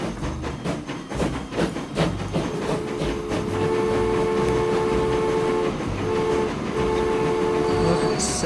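A Baden steam train in the Transport Fever video game rolls out of a station, with rhythmic chuffs and rail clatter, then a sustained whistle tone held over rumbling wheels, loud and close.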